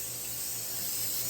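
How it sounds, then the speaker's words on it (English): Cooking spray hisses in a short, steady burst as it greases a baking dish for a loaf of julekake, fairly close and alone. "So, cooking spray."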